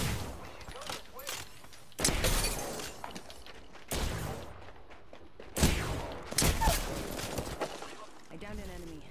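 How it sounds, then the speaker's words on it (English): Enemy gunfire in a shooter game comes as sharp bursts and volleys, clustered into several loud flurries separated by brief lulls, mixed with game effects. "The enemies are shooting at you."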